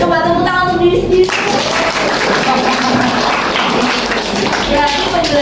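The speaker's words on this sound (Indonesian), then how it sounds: "Coba tepuk tangan untuk diri sendiri." Participants in an Indonesian teacher coaching session clap for themselves, a broad crowd of hands joining after a moment of voices and continuing loudly, mixed with chatter.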